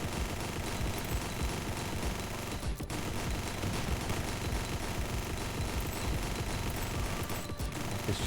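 Continuous heavy gunfire fills the scene in the video game Nimrods, with rapid overlapping shotgun blasts and shots forming a dense, steady barrage.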